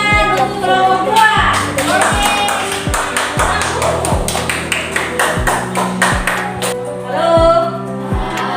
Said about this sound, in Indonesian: semua boleh tepuk tangan untuk kelompok 2